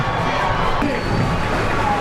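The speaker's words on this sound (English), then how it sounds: "Crowd's getting into the ball game now" A high school football crowd at Morton versus Forest, a steady roar of cheering and chatter from the stands filling the whole moment without a break.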